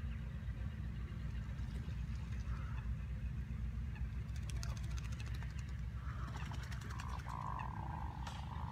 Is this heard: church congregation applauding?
no